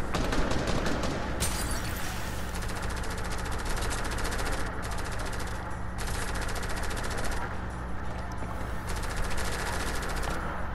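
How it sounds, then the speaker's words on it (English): Marauders firing guns in a video game arena fight: sustained, dense automatic fire rattling almost without pause, loud and close throughout, with rapid repeating bursts over a steady din. "Are these Marauders really shooting at me?"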